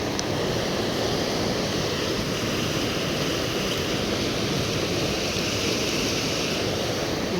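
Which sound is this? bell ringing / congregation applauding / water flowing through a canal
water flowing through a canal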